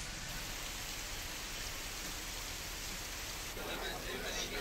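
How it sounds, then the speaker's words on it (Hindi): Heavy monsoon rain pours steadily in Chhattisgarh, a dense, unbroken hiss of drops hitting the ground and surfaces, loud and close throughout with no break in the downpour. "जिस अंदाज में बारिश हो रही है।"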